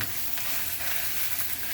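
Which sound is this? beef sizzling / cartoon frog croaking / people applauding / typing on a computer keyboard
beef sizzling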